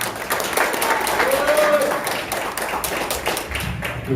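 Warm audience applause at a press conference, a dense spread of clapping that holds steady throughout at moderate loudness.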